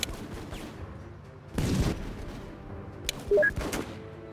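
Gunfire from a military squad firing in a combat game, bursts of shots and a heavy boom around the middle, then another cluster of sharp cracks near the end over a steady background rumble.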